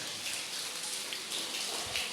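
Heavy monsoon rain pours down over a farmhouse, a dense, steady hiss of falling water close by with no talk.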